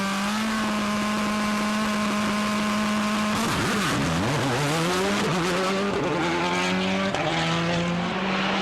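Sebastien Loeb's Citroën WRC rally car at a 2005 Germany stage start holds a steady high idle, then revs hard and pulls away with rising, wavering engine notes, loud and close with no voices.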